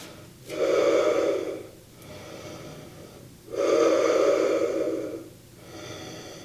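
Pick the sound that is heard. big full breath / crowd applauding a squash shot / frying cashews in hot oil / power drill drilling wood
big full breath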